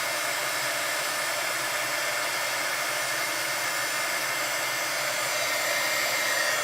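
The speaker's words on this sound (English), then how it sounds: "I'm just going to heat emboss this." A heat gun blows steadily while melting embossing powder on paper during papercraft, giving a constant, close, hissing whoosh of hot air with no talk over it.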